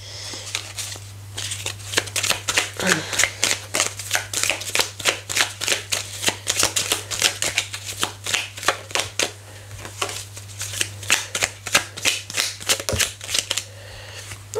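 Tarot cards being shuffled up close, a rapid run of crisp riffling slaps and flutters repeating steadily for the whole stretch, with no voice over them.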